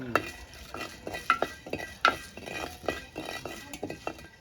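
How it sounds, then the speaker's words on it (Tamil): Cardamom pods dry-roasting in a very hot clay pot, stirred with steady rhythmic scraping strokes and light crackling, close and moderately loud with no talking. "ஏலக்காய் டக்குன்னு வறுபடுது அவ்வளோ ஹீட் ஆயிருக்கு"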